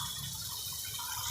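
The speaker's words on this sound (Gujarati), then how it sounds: "મસાલો ચડી જાય એટલું આપણે પાણી નાખીશું," Water is poured into a Gujarati tomato and fenugreek curry (tameta methi shaak) while it cooks, giving a brief, quiet, steady trickling splash with no talking.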